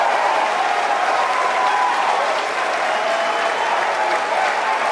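A crowd cheers and applauds steadily throughout as a Falcon 9 first stage lands, producing a dense, continuous wash of clapping and excited shouting.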